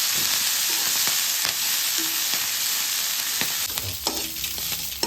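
Steady sizzling of green chilies and fenugreek leaves frying in hot oil, with occasional stirring scrapes and clinks near the end; no talking.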